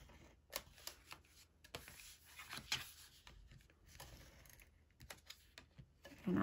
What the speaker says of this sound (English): now we're gonna secure back that flap. With your tape runner.